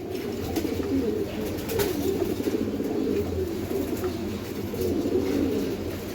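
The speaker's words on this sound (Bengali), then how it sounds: "এখানে এক পেয়ার সিলভার কবুতর আছে দেখেন" A pair of silver pigeons coos steadily at a pigeon farm, a soft continuous rolling murmur filling the whole stretch.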